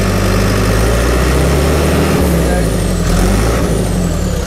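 A diesel engine on a piece of auction equipment runs loud and close, revving with a continuous heavy rumble and hiss that holds steady with no talking.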